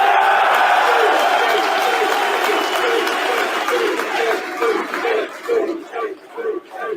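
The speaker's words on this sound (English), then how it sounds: "can we get a round of applause for Russia?" An audience gives a loud round of applause with cheering and shouts, dense at first, then thinning into scattered, rhythmic claps toward the end.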